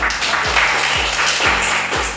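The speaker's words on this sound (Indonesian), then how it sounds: "tepuk tangan buat anak" Students in a mathematics classroom applaud a classmate, a continuous, fairly loud clatter of clapping with a few deep low thuds pulsing underneath.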